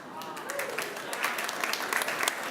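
A chapel audience applauds at Azusa Pacific, a moderate spread of clapping that builds a little, mixed with speech.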